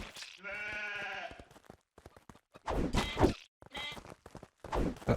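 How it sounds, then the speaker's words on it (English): Sheep bleating in the survival crafting game Craftopia: one clear, drawn-out bleat up close, followed by sharp thumps and shuffling footsteps. "We're going to go ahead and just attack these sheep."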